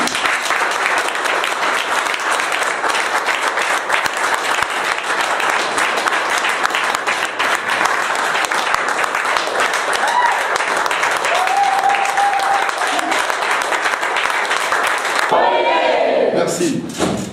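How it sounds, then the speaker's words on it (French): A seated assembly at a community association meeting rises for a standing ovation, giving long, loud, continuous applause with crowd noise, and a few voices are heard through it toward the end. "Nous allons nous lever pour l'applaudir fortement."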